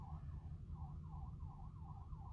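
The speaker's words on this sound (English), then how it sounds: "We're hearing sirens." A wailing siren rises and falls in a steady repeating cycle, heard faint and alone.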